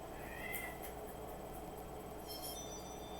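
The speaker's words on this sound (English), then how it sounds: "My cat is meowing." A house cat meows loudly a few times in short, bright calls over a steady background hum, close by and without talk.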